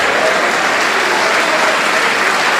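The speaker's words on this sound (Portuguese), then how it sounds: "aplauda o nome do Senhor" A church congregation applauds loudly at a Sunday evening service, a dense, steady wash of clapping that fills the whole stretch without a break.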